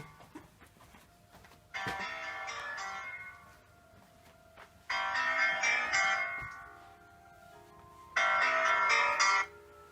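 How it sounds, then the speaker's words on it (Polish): A phone ringtone plays three times in long, evenly spaced bursts of about two seconds each, bright and fairly close in an otherwise quiet room. "O, ktoś dzwoni. Muszę odebrać zaraz."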